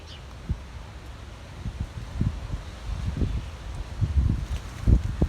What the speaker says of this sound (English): You know, you see this wind?